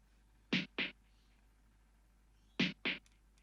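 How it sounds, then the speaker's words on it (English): Snare drum run fully wet through a Waves H-Delay set to eighth notes, heard as two pairs of sharp echoing hits about two seconds apart, each pair a strike followed by a slightly softer repeat, against near silence. "I just put a H delay, another Waves plugin, playing 1/8 notes, fully wet."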